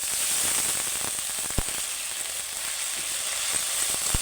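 Ginger paste, with a little water added, fries in hot oil, giving a steady close hiss and sizzle broken by a few sharp spits and pops.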